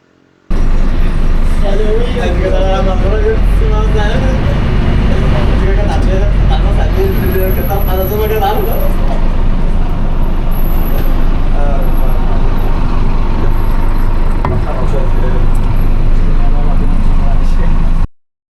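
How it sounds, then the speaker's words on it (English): A city bus pulls in at a roadside stop in a foreign country, its engine rumble and traffic noise steady and loud throughout, with voices talking nearby over the vehicle sound. "I think my bus is here now."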